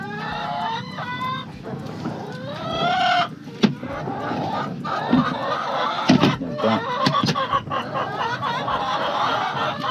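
Laying hens in a poultry layer house cluck and cackle repeatedly at close range, a busy overlapping flock chorus with a few louder squawks throughout.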